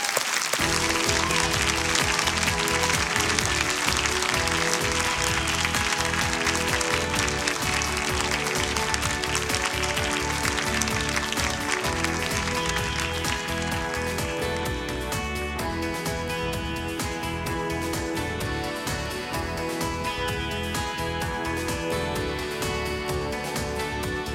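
Sustained applause from an awards ceremony audience welcoming finalists to the stage, dense and loud for the whole stretch, building early and then holding steady with no break.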